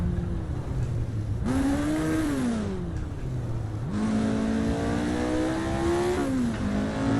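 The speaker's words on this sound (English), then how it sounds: "Careful I don't blow the engine, hitting the wrong gear." A drag-racing car engine in the Assetto Corsa racing game revs up and down through several gear changes, the pitch climbing and falling in clear waves, loud and continuous with no talk.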